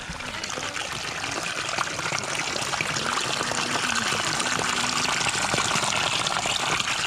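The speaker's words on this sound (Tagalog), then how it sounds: "Ito may falls." Steady, broadband rush of a waterfall on a trip to General Luna, Quezon, during a typhoon, continuous and fairly loud with no pauses, with faint voices now and then under the roar.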